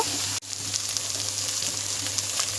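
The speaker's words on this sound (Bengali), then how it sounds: "এবার আমি ভালোভাবে ভেজে নেব বেশি ভাজবো না চার থেকে পাঁচ মিনিট মতন ভেজে নেব" Ridge gourd peels frying in a pan for a Bengali peel bharta, a steady close hiss of sizzling oil with a brief dropout near the start.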